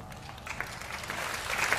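An audience applauds at a Hindi kavi sammelan poetry recital: a dense, steady wash of many hands clapping, moderately loud and slightly distant, that swells a little toward the end.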